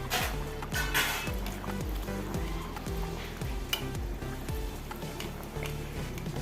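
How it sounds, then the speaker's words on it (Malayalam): Sweet potato puris fry in hot oil, a continuous close bubbling sizzle with crackling spatters and a few light taps. "ഇതുപോലെ പൂരി എണ്ണയിലിടാം സൂക്ഷിക്കണം എണ്ണ തെറിച്ച് പോവും"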